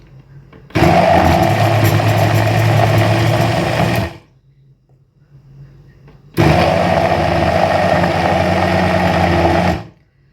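A blender grinds sesame seeds for homemade tahini loudly in two long bursts of about three seconds each, with a quiet pause between them.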